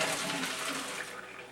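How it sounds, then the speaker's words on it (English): Boiled potatoes and their cooking water poured into a colander, a short rushing splash of water that fades quickly. "you need to dump them out in a colander"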